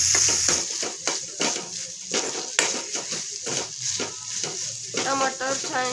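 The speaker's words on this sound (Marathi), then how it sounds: "त्याच्यामध्ये आता आपण अर्धा कट करून घेतलेला टोमॅटो घालून घेऊयात। मिक्स करून घ्यायचं आहे सगळं।" Spoon stirring and scraping halved tomatoes into a sizzling onion-spice masala in a pan for chicken curry, with clinks and frying hiss throughout at close range.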